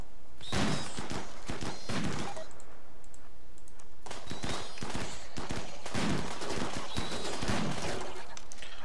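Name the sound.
team gunfire in the video game RimWorld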